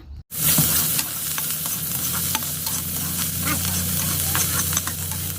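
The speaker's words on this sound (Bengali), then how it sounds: "ওখানেই করলা আলুটা ভাজা করে নিচ্ছি" Bitter gourd and potato frying in a wok, a loud continuous sizzle close by with scattered scrapes and taps of a stirring utensil throughout.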